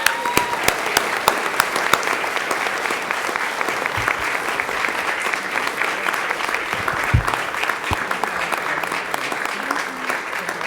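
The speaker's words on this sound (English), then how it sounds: "How about a round of applause real quick?" A city board of mayor and aldermen meeting audience gives sustained applause for a high school girls soccer team, a dense, steady clapping crowd heard from within the room for about ten seconds.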